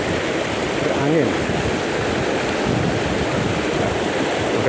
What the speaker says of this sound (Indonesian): Anginnya nih.